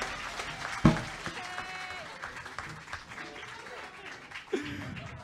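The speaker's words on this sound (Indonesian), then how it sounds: "Tepuk tangan buat Reni dong" Audience applause for a performer named Reni at a live soundpainting performance, a sharp burst of clapping rising over crowd murmur and fading within a few seconds, with faint voices nearby.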